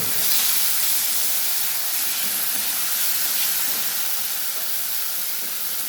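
Small splash of water hitting fried masala in a pan for a homestyle Bengali chicken and potato curry, giving a loud, steady broadband hiss and sizzle that carries on evenly without a break.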